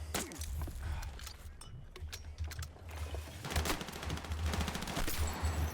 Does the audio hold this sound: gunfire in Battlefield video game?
yes